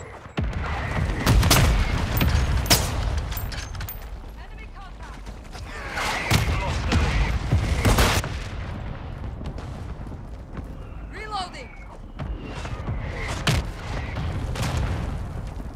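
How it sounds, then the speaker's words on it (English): Mortar strike explosions boom repeatedly in a video game battle, heavy blasts punctuating steady crackling gunfire at close range across the whole stretch. "Hostile mortar strike incoming."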